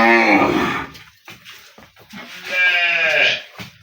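Cows and a Sahiwal calf at a cattle market give two long, loud, close lowing calls separated by a brief pause.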